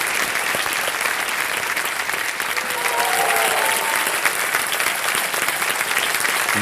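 A studio audience on Kaun Banega Crorepati breaks into sustained, dense applause for a contestant winning a 75 lakh rupee cheque, the clapping steady and loud throughout with a faint voice briefly rising in the middle.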